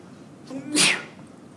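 A single close sneeze bursts out in a quiet classroom, with a short inhaled lead-in and a sharp, breathy release about a second long.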